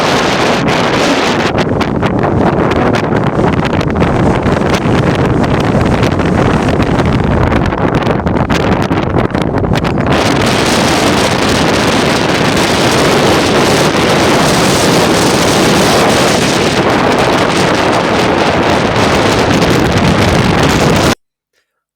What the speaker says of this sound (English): I tried to do, but it was super windy